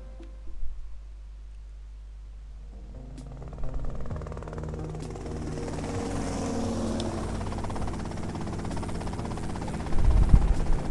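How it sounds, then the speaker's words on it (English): Helicopter in GTA Vice City, its rotor and engine hum growing from faint to louder and steadier as it nears, with a few clicks and a brief burst at the end. "that's them in the chopper"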